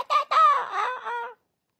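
A chicken clucks and crows in a quick run of loud, close calls lasting just over a second, then silence follows.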